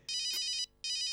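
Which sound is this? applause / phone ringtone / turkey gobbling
phone ringtone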